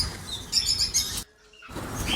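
Cockatiels and opaline birds in an aviary chirp and tweet in quick, bright bursts, fairly close, with a short silent gap before the calling resumes.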